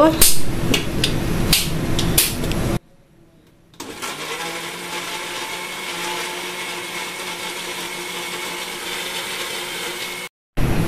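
A kitchen blender whirs steadily as it purees watermelon with thickened cold milk. The blade noise is loud and constant, with a brief pause partway through, and a short stop just before the end.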